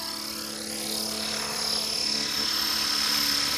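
A Blade Fusion 360 radio-controlled helicopter flies outdoors, its rotor producing a steady, loud whirring buzz with a high motor whine that swells slightly as the craft draws nearer.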